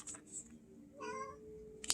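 A house cat meows several times in short, fairly quiet calls, with a longer tonal cry in the middle, in an indoor room.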